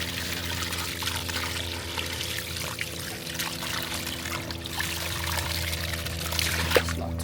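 Water runs steadily into a pond tank during a refill, a continuous soft pouring trickle over a low mechanical hum, fairly quiet and with no talking.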